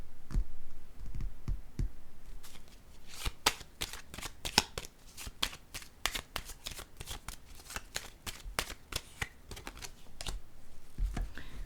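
Tarot cards are shuffled by hand in close, crisp bursts of riffling and flicking, with short gaps between handfuls, light and papery in a quiet room.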